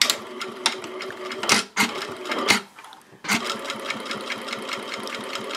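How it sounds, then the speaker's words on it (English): A home sewing machine top stitches around a minimalist ID wallet strap, running in rapid, steady bursts of needle clatter with two short pauses before resuming, close and loud with no talk. "So now I'll top stitch around the strap"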